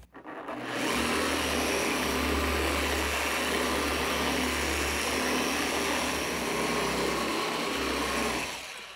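A paint polishing machine with a cutting pad runs at medium speed, giving a steady, close whirring drone with a low hum underneath that starts abruptly and winds down near the end.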